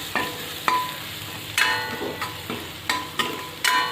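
A spoon stirring red chilli powder, turmeric, coriander powder and garam masala in a frying pan for dudhi bhaji, with a series of sharp scraping clinks about every half second over a soft sizzle.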